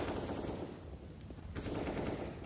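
Automatic gunfire rattles in a Counter-Strike match on the Vertigo map, coming in fairly faint, dense bursts with a brief lull around the middle.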